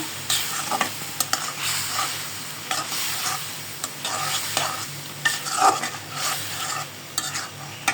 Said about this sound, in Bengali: এখন একটু নাড়াচাড়া করবো